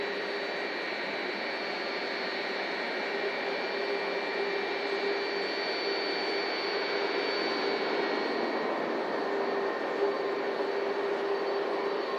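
A Jet2 Boeing 757 at Manchester Airport, in snow, produces a steady jet-engine whine and roar with sustained tonal hums, heard from a distance at the runway visitor park, alone and unbroken for the whole stretch.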